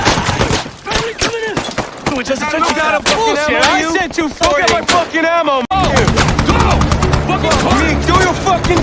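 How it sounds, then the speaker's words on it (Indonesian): Rifle and automatic gunfire in a war film set in the valleys of Afghanistan, loud rapid bursts of shots with sharp cracks, mixed with shouting voices and music over much of the stretch. "tiba-tiba peluru senapan memberondong mereka"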